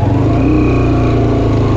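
Jeep engine labouring steadily while climbing a rocky mountain jeep track near Basho Valley, Skardu, a loud, close, unbroken mid-pitched drone.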